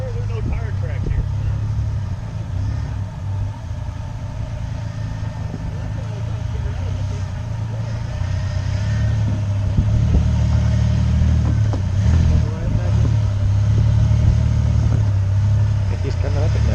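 A steady off-road vehicle engine labors up a rocky cave-area trail, droning loudly and close with slight rises in revs, while people talk over it.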